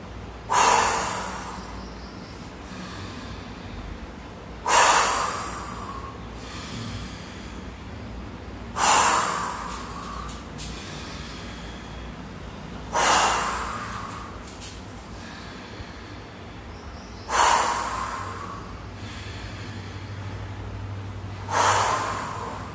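During a yoga session, a person breathes forcefully in and out, giving six loud, rushing exhalations spaced about four seconds apart with quieter breathing between, close to the microphone and without speech.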